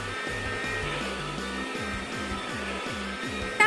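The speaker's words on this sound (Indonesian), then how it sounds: "Penyedot debu datang untuk menyelamatkan." A vacuum cleaner runs continuously nearby, a loud steady whine over a low pulsing motor hum, with no voices.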